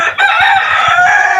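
Chickens and hens in a backyard poultry pen, a loud nearby rooster crowing in a long sustained call with low clucks and scratchy fowl sounds underneath.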